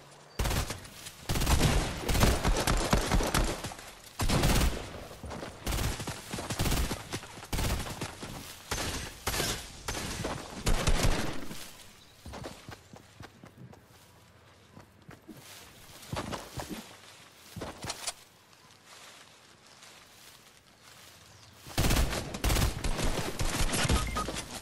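Video game gunfire with an AR among the weapons: loud bursts of rapid shots and fusillades in close succession, separated by quieter stretches with scattered single shots and a few footstep-like sounds, no voices.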